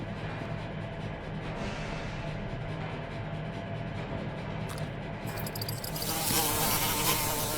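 Bees buzzing inside a room in the video game Escape the Backrooms: a steady droning hum carries throughout, then swells louder and brighter near the end as the insects seem to close in.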